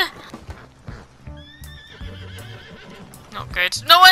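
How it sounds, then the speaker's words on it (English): A horse neighs in the Red Dead Redemption 2 Online game, a loud, wavering whinny amid hoof clops and game noise, with people talking over it. "I punched his horse."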